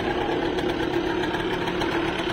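The small single-cylinder engine of a 1962 DKW Hummel 50cc motorcycle idles close by, a steady rapid putter with a light knocking vibration.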